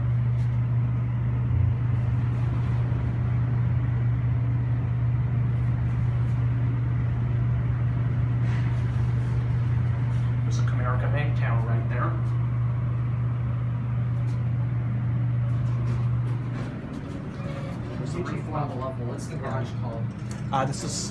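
An Amtech traction scenic elevator at a San Diego parking garage runs with a steady low motor hum that cuts out near the end, while people chat nearby over the machinery.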